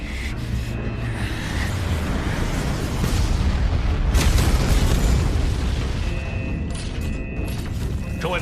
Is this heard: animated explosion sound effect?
yes